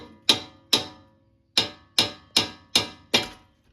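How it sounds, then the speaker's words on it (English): Seven sharp metallic hammer strikes on a front control arm knuckle of a 2014 Dodge Durango AWD ring out close up, evenly spaced apart from one brief pause, each decaying quickly. "So you can do it by hitting it with a hammer, like so."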